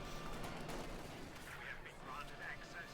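Company of Heroes 2 match with MG42 machine gun fire and artillery bursts rattling steadily through the battlefield din, a caster talking over the continuous gunfire.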